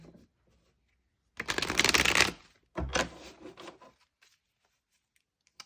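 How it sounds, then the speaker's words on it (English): A deck of tarot cards is shuffled twice in quick riffling bursts, close and crisp, with short quiet gaps between and a faint tap near the end. "we will put those back and do one last shuffle"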